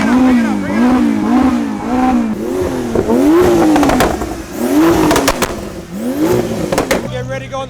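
A Lamborghini V12 supercar on a lunch drive revs and accelerates loudly, the engine note rising and falling in repeated sweeps with sharp crackles, close and dominant.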